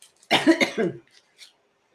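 Allergy-driven coughing: a quick, close burst of several harsh coughs packed into under a second, followed by a faint trailing sound and then quiet.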